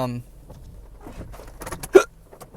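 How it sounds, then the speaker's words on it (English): A man hiccups once, a sharp brief catch in the throat standing out loudly amid faint background sounds, with quieter breathy noises around it. "just got the hiccups."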